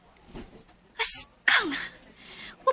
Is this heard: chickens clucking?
no